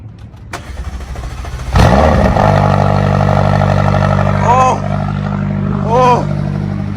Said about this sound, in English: I'm gonna get that cold start.